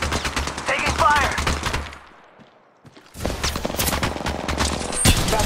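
Rapid automatic gunfire in the Apex Legends Mobile battle royale game, loud bursts of rattling shots that drop out briefly for a second before resuming in dense, close volleys.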